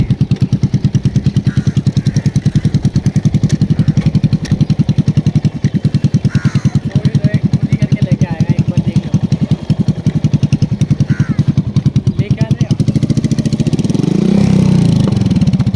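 Motorcycle engine at a riding school for beginners, chugging in a fast, even putter close by, then revving louder and rougher near the end as throttle is added; no talk over it.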